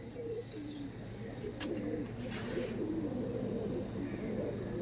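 Rampuri pigeons coo in low, throaty, repeated rolls close by, with a few fainter coos and light background noise.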